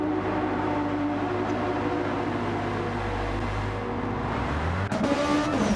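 GT3 race cars in a sim racing game pull out of the pits, a loud continuous engine drone with shifting pitch and a sudden rev change near the end.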